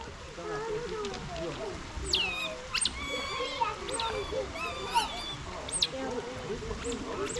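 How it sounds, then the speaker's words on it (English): Otters at Kolmården Wildlife Park giving repeated high squeaky chirps and whistles in quick bursts, fairly close, while people talk over them. "The otters are off. They're making a funny noise."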